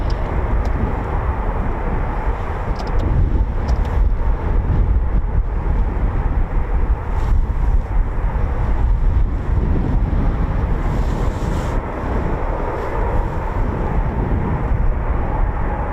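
Typhoon FGR4 jet on a standard takeoff at RAF Coningsby, a sustained broadband roar that stays loud for the whole stretch, buffeted by strong wind blowing across the microphone, with no voices.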